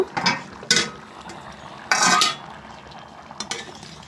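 A spoon stirs rajma (kidney beans) in a pot after water is added, giving close, clattering metallic scrapes and clinks in short bursts with wet sloshing between them.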